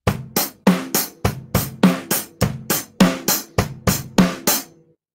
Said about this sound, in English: Or if I play it on the kit, it's like this.